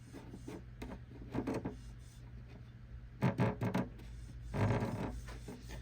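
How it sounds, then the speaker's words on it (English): A loose pick guard on an F-hole guitar rattles against the top during a brace repair, giving soft, close bursts of dry buzzing and scraping in a few irregular clusters. "It's really just the pick guard bouncing across the top of this."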